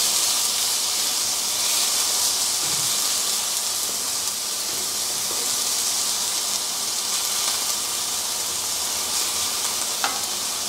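Homemade meat patties sizzle steadily in a hot pan, a dense continuous frying hiss with faint occasional pops, close and constant throughout with no talking.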